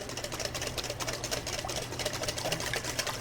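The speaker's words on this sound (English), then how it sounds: "Just keep adding a little bit of olive oil, keep whisking, and it'll start coming together." A whisk beats olive oil into a salad dressing for a kale bowl, a rapid, steady scraping rhythm close by that carries on without a break.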